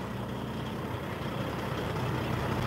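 A garbage collection truck's engine runs at a low, steady idle, a faint continuous rumble heard from a moderate distance with no talk.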